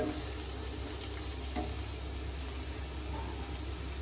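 Ingredients for egg masala fry sizzle steadily in a pan, a constant close hiss of hot oil with a few faint clinks, no talking.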